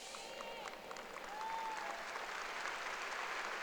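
A church congregation applauds God after a sermon, with sustained clapping that swells slightly midway and carries on steadily, a faint voice and a few whistles riding over it.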